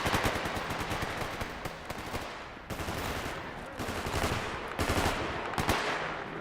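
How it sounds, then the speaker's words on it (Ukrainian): Rapid bursts of automatic gunfire between bandits in S.T.A.L.K.E.R. GAMMA, loud and sustained with short gaps, volleys overlapping one another throughout. "З ким вони стріляються, я не розумію."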